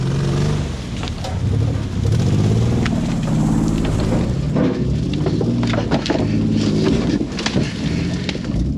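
A 2001 Nissan Pathfinder R50 yard truck rolling slowly around a corner, its engine a close, steady low rumble with some faint rattles over the top.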